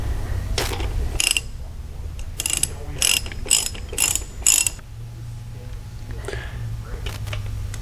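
A hand ratchet tightens the outer bolt on a GM-style starter, giving several short bursts of close, crisp clicking separated by pauses, with a low hum underneath.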